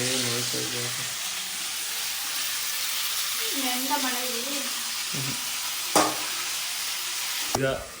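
Food roasts in a pan over medium heat with a constant hissing sizzle and a few louder stirring scrapes, while a voice speaks briefly near the start and middle.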